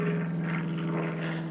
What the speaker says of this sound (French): C'est juste un avion qui passe.